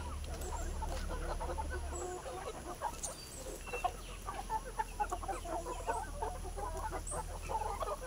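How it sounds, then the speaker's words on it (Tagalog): Many native meat chickens cluck and chatter steadily together, a busy farm flock at moderate distance with a low steady hum underneath. "Manok natin lahing pangkatay."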